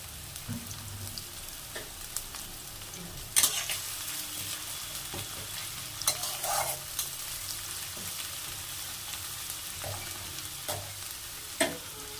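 Home-style chow mein stirred and fried in oil in a pan gives a continuous soft sizzle, broken by occasional sharp scrapes and clinks of the stirring utensil, close up with no talking.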